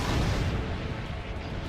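Cannon fire from a battle in Assassin's Creed Brotherhood: a dense, continuous low rumble of booming artillery and explosions, loud throughout and blending into a steady roar without distinct separate shots.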